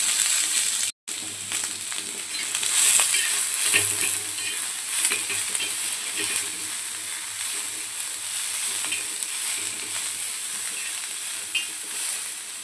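Onions frying in oil for a spicy egg curry: a continuous bright sizzle with occasional stirring scrapes, fairly close and steady throughout, with no talking.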